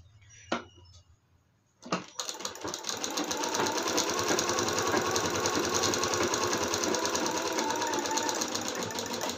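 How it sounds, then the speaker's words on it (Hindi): A home sewing machine stitches pleats on a long-sleeve blouse, with a few soft knocks and handling sounds before the motor starts and then runs in a steady, close, continuous rattle to the end. "हमें स्टिचिंग कर देना है यानी कि सिलाई लगा देना है"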